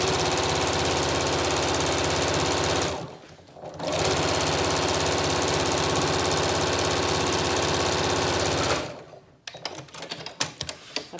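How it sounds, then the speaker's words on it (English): Sewing machine stitching a seam on a Yup'ik qaspeq, running loud and steady in two long continuous stretches with a short pause between, then stopping to scattered clicks. "So what I do is I'll just sew right along there."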